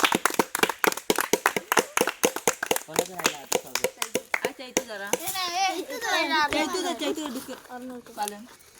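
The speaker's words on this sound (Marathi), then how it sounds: "टाळ्या टाळ्या टाळ्या." Sharp, evenly spaced claps ring out close by at a stage event, a voice calling and chanting over them as the clapping gives way to excited young speech.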